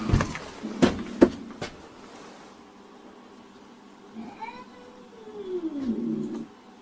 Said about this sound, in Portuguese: de dentro da lareira ele escutou um barulho que parecia ser um tipo de gato